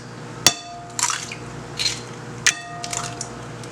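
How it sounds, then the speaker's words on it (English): Eggs are cracked one after another into a bowl: a few sharp, close taps against the rim, each followed by a soft wet slip of egg falling in, with quiet pauses between. "I'm gonna crack 8 eggs in this bowl."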